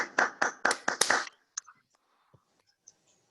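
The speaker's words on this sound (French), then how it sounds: "On applaudit, s'il vous plaît." Five sharp, separate hand claps from a Zoom meeting of a Toastmasters club, close and fairly quiet. A few faint scattered sounds follow, then near silence.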